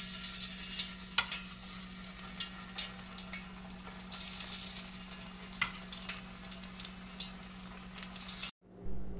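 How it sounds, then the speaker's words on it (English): Boiled potatoes coated in batter sizzle in hot oil, a steady crackling fry with occasional pops and stirring scrapes, close and moderately loud, ending in a brief cut. "Let's fry these potatoes in the oil."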